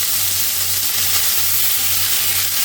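Chicken strips for fajitas sizzle steadily on high heat in a wide cast iron skillet, a loud continuous frying hiss with crackle and no pause, heard up close.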